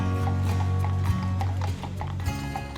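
Horses pulling a sightseeing carriage in Colonial Williamsburg clip-clop along the street in a steady, fairly close rhythm, over a continuous low rumble of wheels and road noise.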